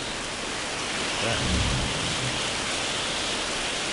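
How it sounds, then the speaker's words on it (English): Steady, loud rain hiss from the Prison Architect video game fills the whole stretch, with a soft low rumble swelling briefly near the middle. "And it's just started to rain."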